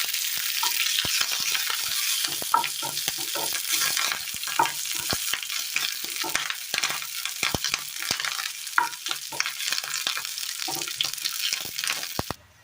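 Curry leaves and mustard seeds tempering in hot oil for a Kerala curry, a steady close sizzle peppered with sharp crackling pops throughout, with no voices.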